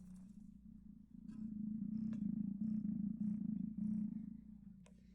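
A cat purring inside a vase, the steady low rumble resonant and hollow, running close and fairly loud for about five seconds with a couple of faint clicks, alone with no talk.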